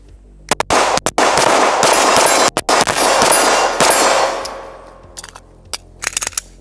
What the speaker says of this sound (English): we're gonna do some shooting, see how she runs